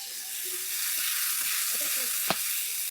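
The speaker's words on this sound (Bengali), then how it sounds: "তারপর হলো দিয়ে দিব অল্প একটু পানি" A little water hits turmeric-coated potatoes and spices frying in a pan on a clay stove, giving a steady, close sizzling hiss broken by a single sharp click near the end.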